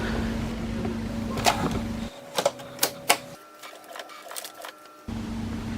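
An HP Envy inkjet all-in-one printer running a two-sided print job gives a steady mechanical whir broken by several sharp clicks and clacks as paper feeds and the duplex mechanism reverses, fairly quiet and close.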